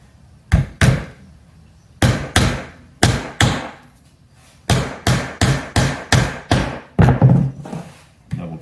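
A hammer driving a small nail into a reclaimed wood arrow, heard as a dozen sharp close-up strikes in uneven bursts of two to five, with brief pauses between groups.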